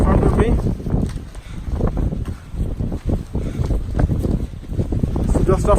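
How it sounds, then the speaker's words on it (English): Strong gusting wind buffets the microphone during a snowstorm on the Everest Base Camp trek between Tengboche and Dingboche, a loud, constant roar, with a voice heard under it. "The wind has picked up."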